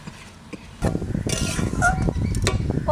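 A lid clatters onto a cooking pot of simmering kochu greens, a short metallic clank and rattle among soft kitchen clatter, close and moderately loud.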